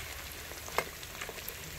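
Catfish fries in hot oil with a soft, even bubbling sizzle. A few light pops and one sharper crackle stand out, heard close but fairly quiet.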